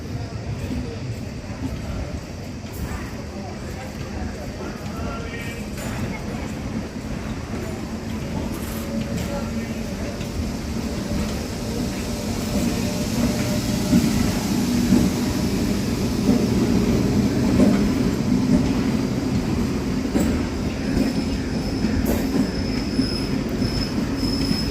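A MEMU express train runs from KSR Bangalore to Dharmavaram, heard from inside the coach as a steady, loud rumble of wheels on rails that builds slightly in strength, with faint squeals and no talk.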